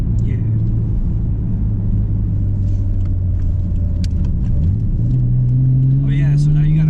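A 1991 Nissan Skyline GT-R BNR32 drives along with a steady, loud low engine rumble heard from inside, its pitch climbing as it accelerates toward the end, with people talking over it.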